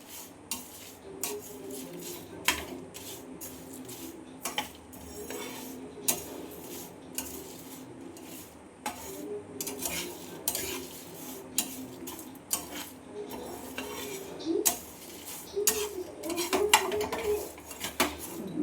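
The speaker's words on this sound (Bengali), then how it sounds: "এবার এই আচারের মশলাটা আমি ভেজে নেব, নেড়ে চেড়ে ভালো করে ভেজে নেব।" Mango pickle spice mix is stirred and lightly roasted in a pan, giving repeated close clinks and scrapes of a utensil against metal in an irregular rhythm, getting busier toward the end, with only a faint hint of frying.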